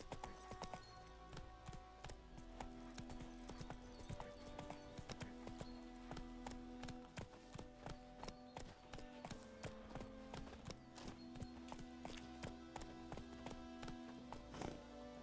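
A horse's hooves clip-clop at a steady trot throughout in the video game The Witcher 3: Wild Hunt, a close, even rhythm over quiet background sound with faint jingling.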